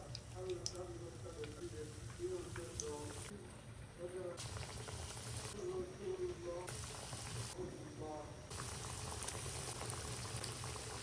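Potato snack deep-frying in hot soybean or sunflower oil at 170 to 180 degrees, a dense continuous bubbling and sizzling that holds steady throughout, with a faint voice speaking in the background.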